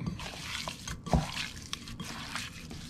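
Duck pieces stirred around in sauce in a pan, soft wet squishing and scraping, close up and fairly quiet, with a small clatter in the middle.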